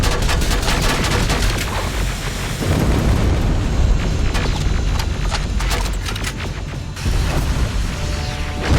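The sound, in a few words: rocket explosion in the video game Terminator Resistance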